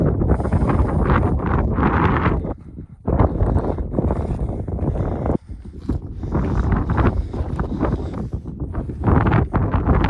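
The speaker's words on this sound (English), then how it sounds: "Cold wind." Cold wind gusting hard across an exposed mountain ridgeline in Colorado, roaring loud and close against the microphone with only brief lulls between blasts.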